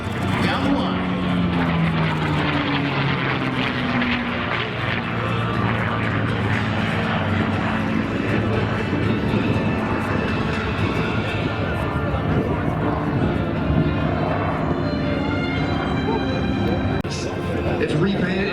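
A P-51 Mustang piston-engine propeller fighter with a freshly overhauled engine makes a low pass down the line at the Central Coast Airfest in Santa Maria, California; its steady roaring drone shifts in pitch as it passes, under an announcer's commentary.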